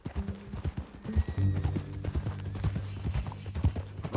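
Hooves of a horse clip-clop steadily at a walking pace in a Western ranch video game, close and clear, with occasional faint whinnying and low background game sounds.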